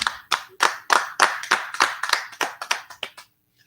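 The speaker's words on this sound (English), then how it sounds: "give a round of applause for the pizza" A small group claps in a steady, even rhythm of about a dozen sharp, close hand claps for pizza at Luciano's Pizzeria & Ristorante, then stops abruptly into silence.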